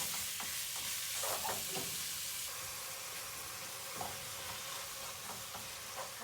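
Ground meat for a keto zucchini lasagna sizzles steadily in a frying pan, with scraping stirs and clatters of a utensil breaking it up, close and continuous throughout.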